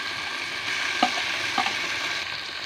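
Spices tipped into hot oil over fried onion for a home-style chicken curry hiss in a steady, bright sizzle, with a couple of sharp stirring clicks rising above it.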